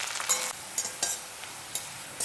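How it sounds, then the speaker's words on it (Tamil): Curry leaves sauté in a pan with a steady bright sizzle, marked by a few quick stirring scrapes. The sound is close and fills a short moment with no voices. "நல்லா வதக்கிக்கோங்க"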